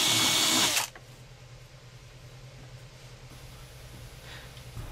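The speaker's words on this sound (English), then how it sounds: "Here you can see I'm marking the spots where to drill the bolt holes." A power drill bores bolt holes in electronics boxes for a solar-powered weather station, one loud, short burst of drilling that stops abruptly, followed by quiet room noise.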